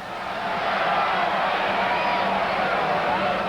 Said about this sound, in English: the crowd responding with the usual smattering of the boos